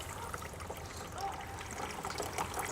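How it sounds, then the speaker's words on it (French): A river in flood runs strongly through a wetland. The water makes a steady, rushing, broadband wash that stays fairly soft and distant, with no break. "ça coule fort, il y a beaucoup d'eau dans la rivière, on peut dire que c'est la crue"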